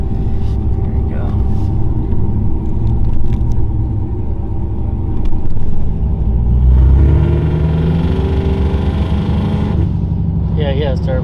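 A boosted, turbocharged truck engine rumbles deep and loud nearby, then revs up and swells before settling back, with people talking over the engine noise.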